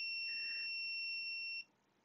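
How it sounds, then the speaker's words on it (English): A digital multimeter's continuity tester gives a steady high-pitched beep when its probes are shorted, holding for about a second and a half, then cutting off abruptly into quiet. "It goes into beep mode."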